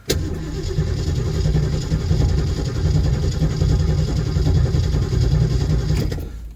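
Old muscle car that has been sitting, cold started with a failing starter: the engine catches right away and runs in a loud, rough, steady idle close by for several seconds before cutting off sharply.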